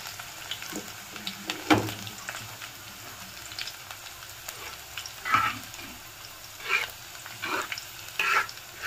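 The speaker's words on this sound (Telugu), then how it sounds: "బాగా వేగిపోయినాయి, చిటపటమంటున్నాయి. ఇందులో కొంచెం ఆనియన్స్ అండ్ కరివేపాకు, ఎండుమిర్చి, ఒక 3 వెల్లుల్లి రెబ్బలు వేసుకున్నాము." Onions, curry leaves, dried red chillies and garlic fry in hot oil for a fenugreek leaf dal, giving a low steady sizzle with scattered close crackles and pops and occasional stirring.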